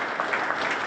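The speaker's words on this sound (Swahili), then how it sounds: "Jamani, tujipigie makofi wa Tanzania kwa tulicho nacho." Audience applause at the opening of a five-star hotel in Arusha, Tanzania, a steady wash of clapping from a crowd, held at an even level throughout the brief moment.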